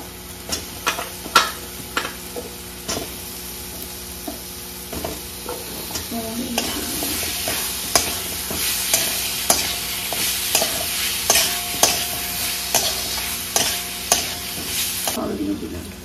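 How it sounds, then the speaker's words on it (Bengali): Spices with water and potatoes are stirred in a pan, with repeated close scraping and knocking strokes of a spoon against metal over a soft bubbling sizzle. "এবার সমস্ত মশলাকে ভালোভাবে নাড়িয়ে নেবো যাতে সব মশলা ভালোভাবে মিশে যায়"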